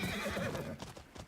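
A horse in the video game Ghost of Yotei lets out one loud, close neigh that quavers for under a second and then fades, followed by a few soft hoof clops.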